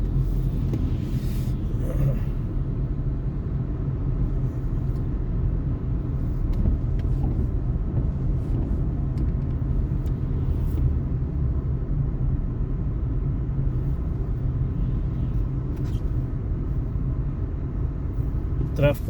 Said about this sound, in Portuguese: Tráfego mais pesado aqui